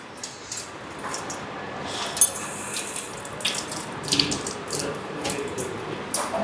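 An onion is rinsed under a tap, a soft stream of running water broken by several sharper splashes and squishes as it is turned in the flow, close and fairly loud.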